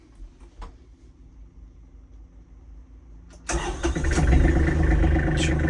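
A quiet idle hum gives way to an Iseki AT 25 tractor engine cranking and catching, then settling into a loud, steady diesel rumble close by.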